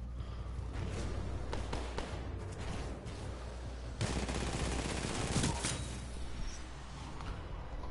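Sustained automatic gunfire in the Titanfall shooter game, a dense, steady rattle of shots with heavier bursts partway through, loud and continuous with no talk over it.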